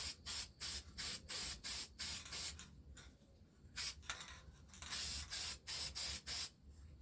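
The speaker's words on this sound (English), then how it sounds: "Spray a little more, another layer." Repeated short hissing bursts of aerosol filter oil sprayed onto an air filter pulse in a quick rhythm, with a few longer sprays in between, close and fairly quiet.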